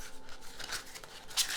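Tarot cards are shuffled in a soft, quick run of papery riffling and rustling, faint and close with no voices.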